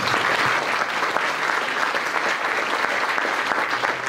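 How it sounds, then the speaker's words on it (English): A crowd at a Fourth District Court of Appeal groundbreaking ceremony in West Palm Beach gives steady, full applause, loud and continuous throughout with no break. "Let's give them a round of applause."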